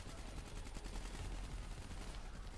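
Dense, continuous automatic gunfire from Black Ops 3 co-op campaign combat, a steady rattling barrage heard at a distance and fairly faint throughout.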